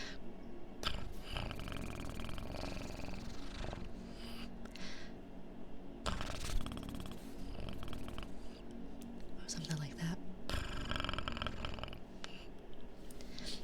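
A voice imitates a cat's purr with a low, rumbling rattle, broken by brief pauses and mixed with a few spoken words.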